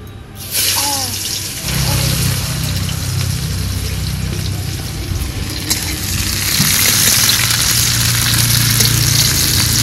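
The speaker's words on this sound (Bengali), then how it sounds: "কেটে রাখা পেঁয়াজ ফোড়নের উপরে দিয়ে দেব।" Chopped onions are added to hot oil tempered with cumin and bay leaf, giving a sudden burst into a continuous loud sizzle and crackle that persists and swells slightly, with faint talk near the start.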